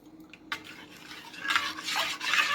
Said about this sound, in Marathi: आता ह्याला हलवून घ्यायचं चांगलं